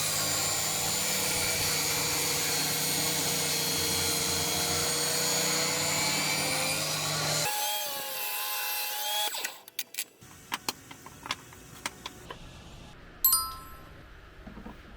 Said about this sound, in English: And then cutting them down to thin strips.